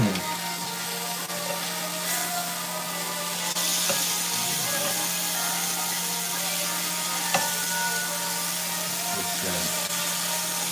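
Food sears in a hot pan, a steady sizzle and crackle with a constant hum behind it and occasional clinks of utensils, moderately close.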